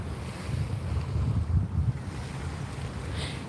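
Ocean waves wash steadily onto a gray-water shore, a continuous low rumbling surf with gusty wind noise on the microphone and no talking.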